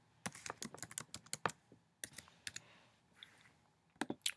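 Rapid bursts of light taps on an iPad touchscreen keyboard while entering an iTunes email login, close and fairly quiet, in uneven clusters with short pauses between them and no speech.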